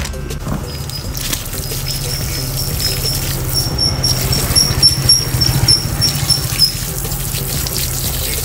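Water splashes and trickles over the engine of a Raider 150 Fi motorcycle during degreasing, a continuous close spattering patter with faint high squeaks and a low hum beneath, no talk.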